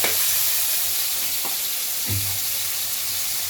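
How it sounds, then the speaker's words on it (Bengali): Thin slices of chicken with black pepper, ginger and garlic fry in a pan, a steady broad sizzle with faint scraping stirs, close and continuous with no voices. "চিকন চিকন করে কেটে একটু গোলমরিচ আদা রসুন দিয়ে এখন ভেজে দেবো"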